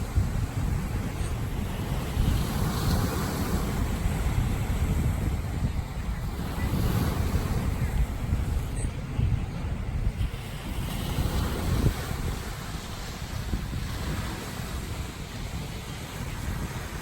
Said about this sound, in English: Sometimes there's a little bit bigger waves.